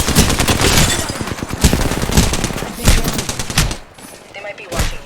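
Gunfire in the video game Valorant, a rapid run of sharp shots in bursts with brief gaps, loud and close, under game voice lines.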